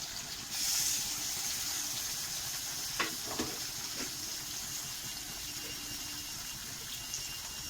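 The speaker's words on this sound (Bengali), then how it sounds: "আমার তেলটা গরম হয়ে গেছে, আমি তেলে ছেড়ে দেবো, পুরো ভাজবো।" Coated puti fish frying in hot oil gives a faint, steady hiss throughout, with a few brief soft crackles near the middle and no talking.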